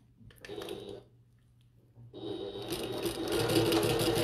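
A sewing machine stitches the seam of a bucket tote at a 1/2 inch seam allowance, first a short close burst, a pause, then a longer, louder steady run of rapid needle whirring.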